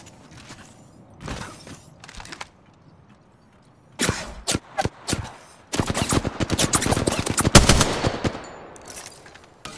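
Gunfire in Apex Legends, with a few scattered single shots and short bursts, then a long, loud run of rapid automatic fire, all close and punchy with mechanical clicks between volleys.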